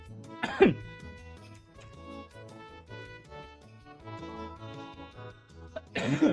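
A couple of short coughs or throat clears, one near the start and another at the end, with steady music playing underneath.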